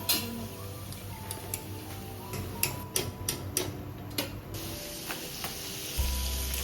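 A masala ingredient dry-roasting in a pan, with a soft continuous sizzle broken by scattered sharp ticks and clicks as it is stirred, close by and without talking.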